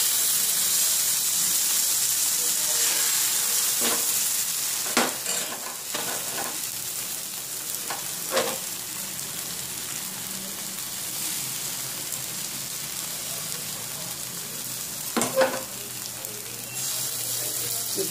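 Rava dosa batter poured onto a hot griddle over high gas, a bright continuous sizzle with scattered scrapes and taps of a spoon, heard close and without talking.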